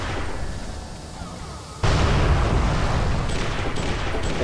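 A bomb blows up in the Thai action game Gun, a sudden loud boom that cuts in partway through and leaves a heavy rumbling roar over steady game background noise.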